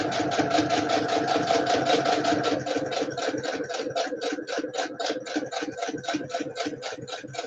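A sewing machine stitches fabric in a fast, steady mechanical run of rapid needle strokes, close and loud, with the pace easing slightly partway through.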